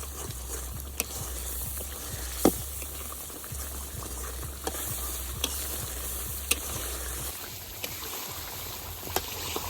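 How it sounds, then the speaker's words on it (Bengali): Ginger-cumin paste with garam masala, coriander powder and salt fries in oil with a continuous close sizzle, punctuated by regular clicks of a spoon stirring the pan. "আদা জিরা বাটা, সামান্য একটু গরম মশলা বাটা, তো লবণ। মশলাটারে খুব ভালোভাবে কষে নিই।"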